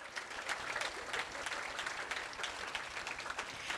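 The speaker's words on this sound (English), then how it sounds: "let's give a big round of applause for all of our Eddie Award winners tonight" Audience applause fills an awards ceremony hall, a steady wash of many hands clapping at moderate volume with no talk on top.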